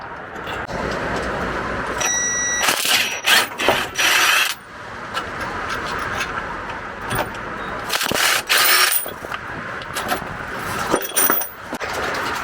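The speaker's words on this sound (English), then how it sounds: "now I'm going to take the bolts out." Suspension bolts being removed from a Sprinter RV van, with close metallic ratcheting and clanking in repeated bursts between quieter stretches of tool handling.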